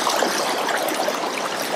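Current of the Rubicon River in Victoria, Australia, rushing steadily and close, a constant bright wash of flowing water with no other sounds.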